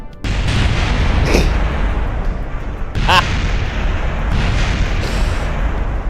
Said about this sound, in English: Let's just watch the explosion